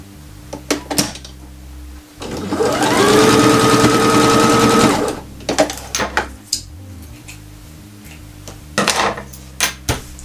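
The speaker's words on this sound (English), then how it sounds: "you can just do a stitch here as well to keep this back bit in place" A sewing machine stitches a zipper bag in one steady, whirring run of about two and a half seconds, framed by light clinks and handling sounds before and after.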